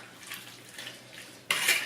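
Spoon stirring creamy chicken and bacon carbonara sauce in a Tupperware pressure cooker, soft wet scraping strokes followed by a brighter clatter against the plastic.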